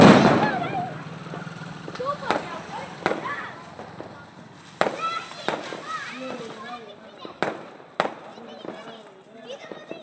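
A firecracker tied to a motor goes off outdoors, with sharp bangs and crackling pops scattered through the stretch, whistling tones and a whirring spin, and excited voices talking and shouting throughout.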